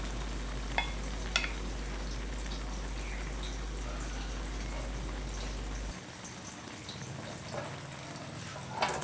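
A thick Thai-style omelette deep-frying in oil in a pot, with a steady soft sizzle and bubbling throughout, plus occasional light clinks and taps as the egg is flipped.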